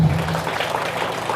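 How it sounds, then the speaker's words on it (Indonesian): An audience applauds at a religious and political talk, a brief burst of dense, fairly loud clapping with no voice over it. "Tepuk tangan lagi."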